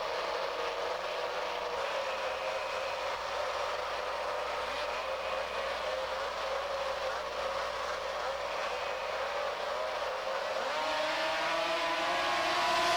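Race cars roar around a circuit in a dense, steady engine drone that holds for the whole stretch, then swells slightly louder and higher as the cars push on near the end.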